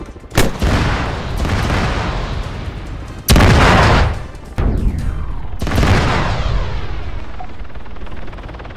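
Several heavy booming blasts go off in Arma 3, one huge explosion after another, each followed by a long rumbling decay.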